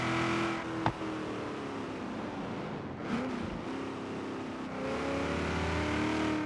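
Chevy SS sedan in Forza Horizon 3, engine droning steadily while cruising, with a brief thump, a short dip as the revs drop and shift, then a rising pull back to a sustained hum.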